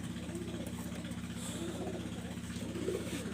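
Purebred pigeons coo in soft, repeated throaty phrases close by, over a steady low engine-like hum.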